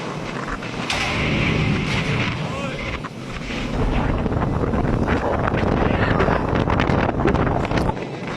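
Strong, gusting wind roars across the microphone on a ship at anchor, surging and easing over several seconds as a loud, broad rush.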